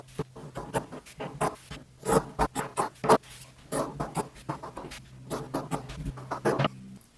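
Scissors cutting strips of felt, producing a quick irregular series of close, crisp snips and rustles that bunch into rapid bursts with short gaps between, no talking.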